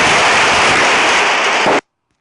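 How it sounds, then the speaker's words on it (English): Heavy rain drums on a metal roof, a loud, dense, steady hiss-like roar that runs unbroken for nearly two seconds and then stops abruptly. "That noise you heard was the rain coming down on the metal roof."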